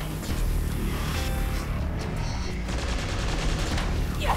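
Rapid gunfire in the dungeon-crawler video game Let It Die, a dense sustained burst of shots layered over a loud, busy game soundscape for several seconds.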